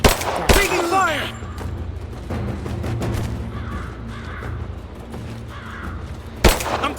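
Gunfire in the action game Rise of the Tomb Raider: sharp loud shots near the start and end, scattered rattling bursts between, mixed with game noise and shouted voices.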